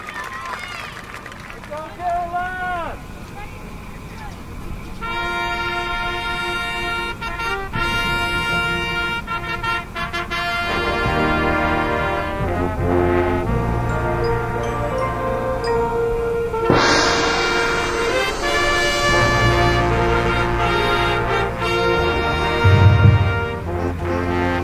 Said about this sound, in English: Ladies and gentlemen, the Alexandria Sound of the Valley Marching Band.